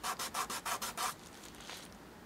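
A wooden patch on a cracked violin top is sanded by hand in about seven quick, even back-and-forth strokes, close and rhythmic, followed by a few fainter rubs.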